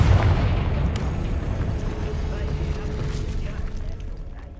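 A Confringo fire spell explodes in Hogwarts Legacy, a loud booming blast at the start that rumbles on and slowly fades through the whole stretch, with a faint bit of speech mixed in.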